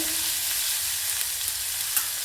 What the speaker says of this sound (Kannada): ಸಾಸಿವೆ ಚಟಪಟ ಆದ ನಂತರ ಈರುಳ್ಳಿನ ಸೇರಿಸ್ತಾ ಇದ್ದೀನಿ. ಹಾಗೆ ಈರುಳ್ಳಿನ ಸ್ವಲ್ಪ ಫ್ರೈ ಮಾಡ್ಕೊಳ್ಳೋಣ